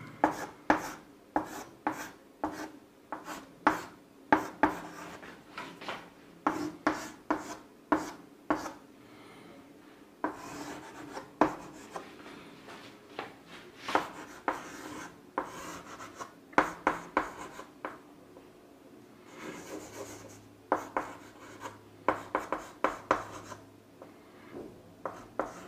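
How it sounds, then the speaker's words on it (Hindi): Chalk or marker writing out questions by hand on a board during a chemistry lecture, a long series of sharp taps and scratchy strokes in uneven bursts with short pauses, close and fairly faint, with no talking. "पहले मैं सारे क्वेश्चन ही लिख देता हूं।"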